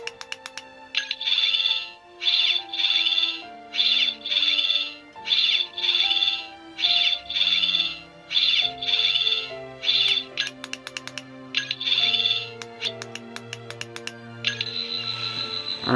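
A 14th Doctor sonic screwdriver toy sounds off in rapid electronic bursts: pulsing high warbling tones in regular beats over shifting lower synthetic notes, about a dozen pulses in a row, loud and close with no talk.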